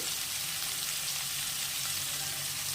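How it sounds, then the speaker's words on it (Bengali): Mixed vegetables for a vegetarian Malabar spinach dish with potato and pumpkin fry in a pan, a quiet, even sizzle that holds steady with no one speaking. "এই সবজিগুলো একটু ভাজা ভাজা হয়ে গেছে"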